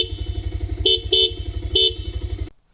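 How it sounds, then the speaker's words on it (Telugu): A 2026 Bajaj Pulsar 220F idles with a steady, throbbing engine pulse while its dual horns blare three short, bright honks, then the engine cuts off and the sound drops away. "ఇంకా ఈ బైక్లో డ్యూల్ హార్న్స్ను ప్రొవైడ్ చేశారు."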